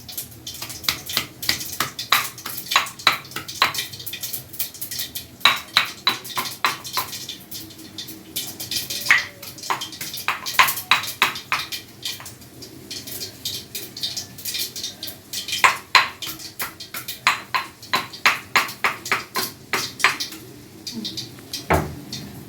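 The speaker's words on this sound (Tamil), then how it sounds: "இந்த மாதிரி ஒரு கல்லில் 10 பல்லு பூண்டு, கருவேப்பிலை ரெண்டையும் நல்லா சேர்த்துக்கலாம்" Ten garlic cloves and curry leaves being pounded on a grinding stone in a home kitchen, giving close, rhythmic clusters of sharp knocks and thuds with brief pauses between bursts, with no voices.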